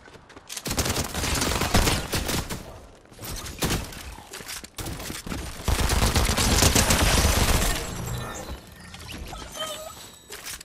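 Loud, rapid shotgun blasts in Fortnite come in dense overlapping bursts with short pauses, close and harsh throughout.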